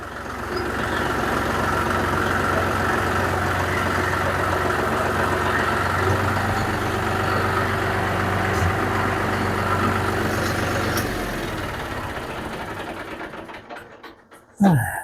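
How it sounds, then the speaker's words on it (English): A tractor engine chugs steadily at idle for a long stretch, loud and close, then cuts off, followed by a brief clunk. "Park the tractor back up out here in the barn"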